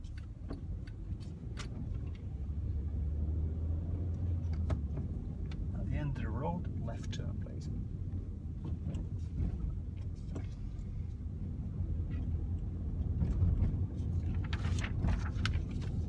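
A car pulls away from the roadside during a mock driving test, the engine and road rumble steady and close inside the cabin, with a faint ticking indicator early on and voices talking at moments.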